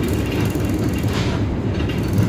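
Dhoho passenger train at a station, heard as a steady, close, low rumble of rolling rail cars throughout the brief moment, with no talking.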